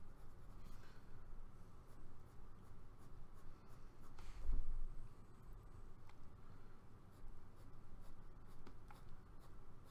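A J. Herbin medium-nib fountain pen scratches steadily across paper, a quiet continuous scritching with faint irregular strokes and one slightly louder moment midway, heard close up with no voices.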